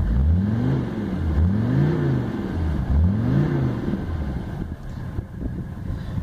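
A Mercedes 300SD turbo diesel engine revs up and falls back in three repeated rises, close and loud and steady throughout, with some wind noise at the end and no talking.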